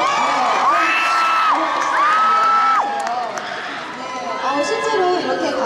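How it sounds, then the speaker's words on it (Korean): K-pop concert fans at an outdoor winter venue cheer and scream in a loud, dense crowd roar, with high shouts and whoops rising and falling close by. "박수 부탁드릴게요"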